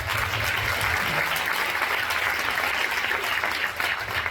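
An audience at an author talk claps loudly and steadily, a dense sustained round of applause from a nearby crowd with no speech over it.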